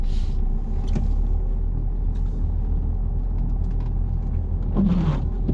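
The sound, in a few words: car driving during a driving test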